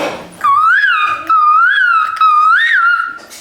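A voice imitates the call of an Asian koel: a series of about four rising, wavering, high-pitched whooping calls, loud and close, separated by brief breaks.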